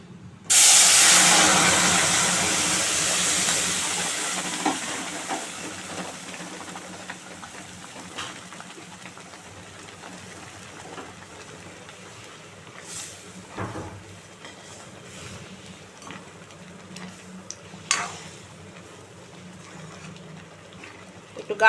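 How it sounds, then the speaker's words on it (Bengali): Dal poured into a hot tempering of whole cumin seeds and a bay leaf gives a loud burst of steamy hiss and sizzle that slowly fades to a lower, steady simmering crackle with a few sharp pops. "গোটা জিরে আর একটা তেজপাতা দেবো ফোড়নে। এবার ডালটা ঢেলে দেবো।"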